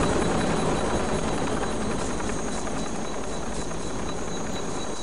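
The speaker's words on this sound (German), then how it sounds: "Ist doch jetzt wohl ein Witz mit dem Helikopter" A helicopter in the video game Soldier of Fortune II gives off a loud, steady rotor drone and engine roar that fills the whole stretch without a break, with no voices over it.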